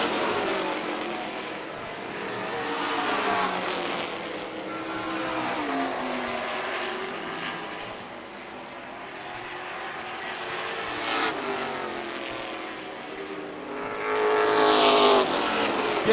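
Pro Stock race cars circle a short track at full throttle, their engines a steady, dense roar that swells louder and closer as a car sweeps past near the end.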